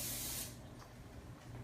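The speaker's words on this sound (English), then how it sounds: "I just take my cooking spray, and I just use the canola cooking spray, and I just lightly spray a little bit on top of this" A short, close hiss of canola cooking spray misted lightly over flatbread, one burst lasting about half a second before fading into quiet room noise.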